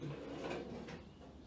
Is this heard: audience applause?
no